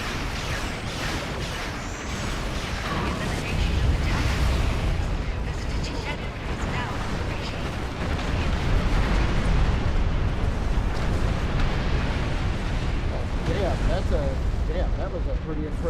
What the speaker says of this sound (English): That was a pretty impressive explosion right there.